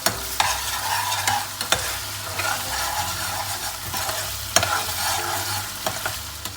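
Dal makhani cooking over a high flame, with a steady sizzle and bubbling and repeated sharp clinks of a spoon stirring against the pan, close and fairly loud.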